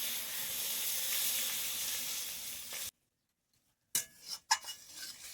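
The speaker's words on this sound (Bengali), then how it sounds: "দুধটা ছেঁকে কড়াইয়ে ঢেলে নেব।" Strained milk hitting a hot wok makes a broad hiss and sizzle that stops abruptly, and after a silent pause a few clinks and soft stirring noises follow.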